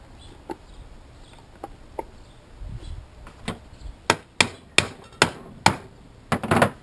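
Gasket material is tapped out against a pump with a hammer in a series of sharp, close metallic strikes, sparse at first and then quicker and louder.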